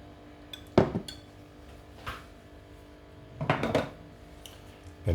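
A spoon stirs honey into blackberry yogurt in a dish, striking the sides in a few sharp, close clinks that come in two small clusters separated by quiet pauses.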